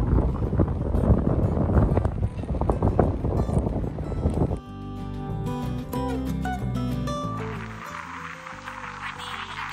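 Strong, cold wind by the waterside buffets the microphone in a loud, roaring rush for several seconds, then gives way to a steadier, more tonal sound.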